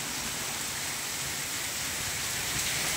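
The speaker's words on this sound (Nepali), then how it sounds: "पानी परेर असिना परेर हैरान छ जिन्दगीमा" Heavy rain with hail pouring down during a windstorm, a dense, steady roar of drops hitting surfaces for the whole stretch, loud and unbroken with no voices.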